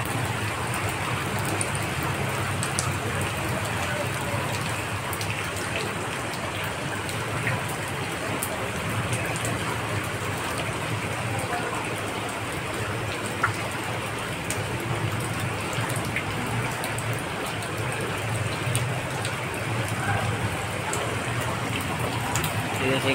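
Heavy rain falls on a flooded market street, a steady hiss of drops on water and pavement that continues evenly throughout, with faint scattered sounds behind it.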